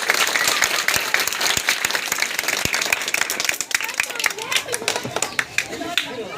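A poetry gathering audience claps to welcome a performer at a patriotic recital. The applause is loud and mixed with distinct sharp nearby claps and crowd chatter, and it thins out near the end.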